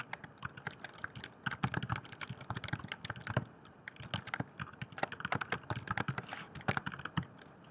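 Rapid clicking keystrokes on a computer keyboard, irregular bursts of close, crisp taps typed continuously with short pauses, no voices.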